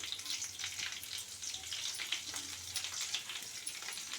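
Dried red chillies and curry leaves crackle and sizzle in hot oil for a tomato dal tempering, a steady, close frying hiss with small pops and no voices.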